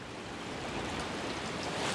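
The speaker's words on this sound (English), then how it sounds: "This flow of water, it's like a small burn" Small burn of water flowing steadily on a Scottish isle, undermining a storm-felled tree; a continuous broadband rushing wash, close and moderately loud, building slightly toward the end with no talk.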